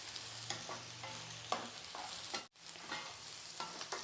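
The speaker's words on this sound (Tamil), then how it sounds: "கத்திரிக்காய் போட்டு சும்மா 1 நிமிஷம் வதக்கினா போதும்" Brinjal pieces sizzle in hot oil in a pan while a spatula stirs them, giving a steady close hiss broken by soft scraping strokes. The brinjal is being sautéed for sambar.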